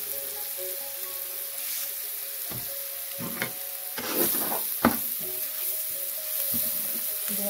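Spice masala fries in a pan with a constant soft sizzle broken by several scraping stirs and a sharp clank of a utensil.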